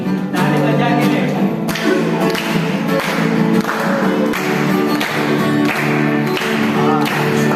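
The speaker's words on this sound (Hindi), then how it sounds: "ताली बजा के ले।" A church congregation at a family camp devotion clapping their hands in a steady rhythm, loud and close, with music and voices underneath.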